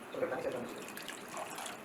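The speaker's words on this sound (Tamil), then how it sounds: "நம்ம இது கூட கொஞ்சம் தண்ணி கூட நம்ம ஆட் பண்ணிக்கலாம்" Water poured into a pot of millet payasam while cooking, a soft splashing trickle heard close by under a person's voice talking.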